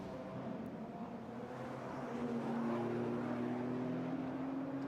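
A GT4 race car blasts past at speed on the Jeddah street circuit, its engine a steady loud drone that rises in pitch as it accelerates, running alone with no talk.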